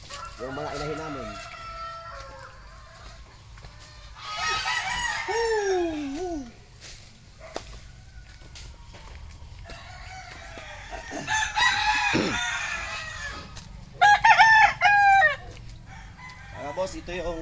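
Pet fighting roosters and hens at a farm coop crow repeatedly in long rising calls, with clucking and cackling between them and a steady low rumble underneath.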